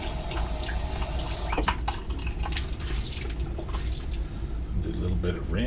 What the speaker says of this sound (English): Do a little bit of rinse here